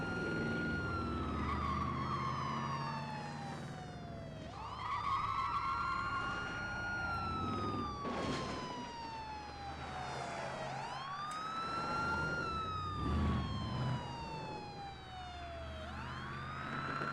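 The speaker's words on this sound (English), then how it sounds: "Oh, so there's a police car." A wailing police siren from the 1999 PlayStation driving game Driver, rising and falling in long sweeping cycles, loud and continuous, with a second siren tone overlapping at times and no talk over it.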